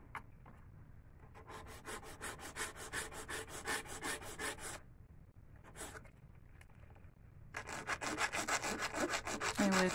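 Acrylic nails are filed with a coarse 80 grit nail file, a close, rhythmic rasping in quick strokes that stops, restarts in a brief burst, then builds into a faster, louder run of filing.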